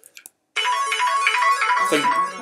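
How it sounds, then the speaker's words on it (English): A mobile phone ringtone starts after a few soft clicks and plays as one steady, bright electronic melody for about two seconds, loud and close, with no voices over it. "Oh, that's my phone."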